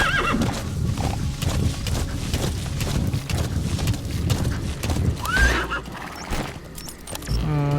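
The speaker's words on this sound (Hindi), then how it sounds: "घोड़े को और भी थोड़ा सामने लेके जाता हूँ" A horse gallops in Metal Gear Solid V, hooves drumming steadily and loud, with a sharp neigh rising partway through over game music and effects.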